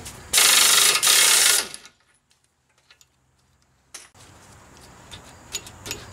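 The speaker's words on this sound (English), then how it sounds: "Alright, gotta remove the axle nut." A ratchet works on the axle nut of a 2002 Mitsubishi Lancer: a loud burst of noise at the start, then a quiet stretch with scattered clicks, and a rougher stretch of clicking and scraping near the end.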